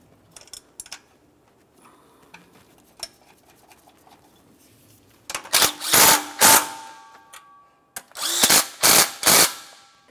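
A power tool drives bracket mounting bolts on a 1994–2002 Dodge Ram 2500 engine, two bursts of loud whirring, each in three or four quick pulses, after quiet clicks and handling noise.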